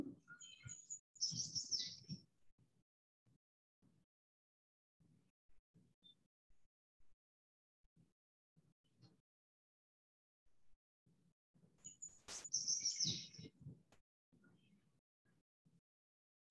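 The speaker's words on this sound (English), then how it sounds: "I think he's hearing red-winged blackbirds" Two bursts of bird calls, each a buzzy trill with shorter chips, separated by quiet gaps with faint low murmurs in the background.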